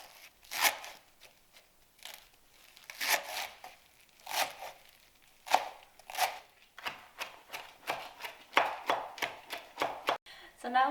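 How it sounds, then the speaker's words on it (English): A knife chops parsley on a cutting board in a kitchen. The cuts are soft, close and irregular, then quicken into a steady run of taps near the end. "So I'm going to start by chopping the parsley."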